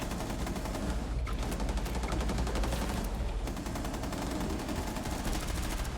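Rapid automatic gunfire from the video game Rainbow Six Extraction, aimed at alien nests, rattles continuously and loudly in dense bursts with brief lulls, no talk over it.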